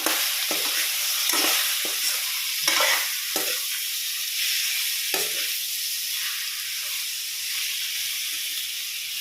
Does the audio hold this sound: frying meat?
yes